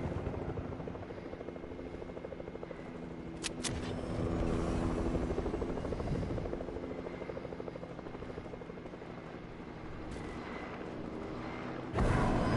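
A helicopter in the video game Fortnite thunders overhead with a loud, continuous rotor chop that swells and fades slightly, with a few sharp bursts and a short loud hit near the end.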